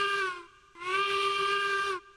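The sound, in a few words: steam locomotive whistle in Railroads Online video game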